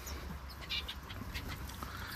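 Society finches and silverbills chirp in an aviary, with faint, scattered high tweets over a low background hum and no talking.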